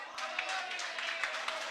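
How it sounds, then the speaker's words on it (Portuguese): A church congregation claps together in quick, fairly even bursts, moderately faint, with a preacher's voice continuing over the applause. "Você pode aplaudir ao Senhor?"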